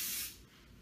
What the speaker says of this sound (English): you're going to do one quick mist right down the center